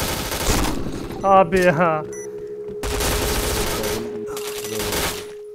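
Bursts of rapid automatic gunfire from the Point Blank shooter game during a clan match, several dense volleys separated by short gaps, with a brief spoken word and a tonal game sound between them.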